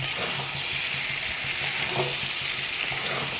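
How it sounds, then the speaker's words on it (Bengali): Jackfruit curry with sour yogurt being stirred in a pan over a low flame, with a steady close sizzle and soft, rhythmic scraping of the spoon throughout. "টক দইটা দিয়ে ভালো করে এটাকে একটু নাড়িয়ে নেব।"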